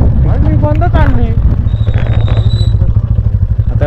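A motorcycle is being ridden, and its engine gives a low, steady, throbbing hum close by. A person talks over the engine in the first part.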